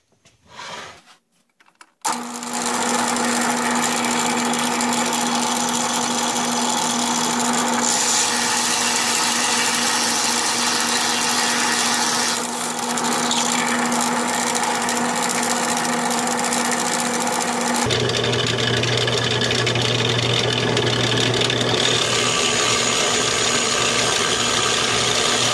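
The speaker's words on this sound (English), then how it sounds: "we'll get started here on drilling the holes for the posts." A power drill boring post holes into the wooden base of a homemade cheese press, running as a steady loud whine and grind after a short quiet start, with a shift in pitch near the end.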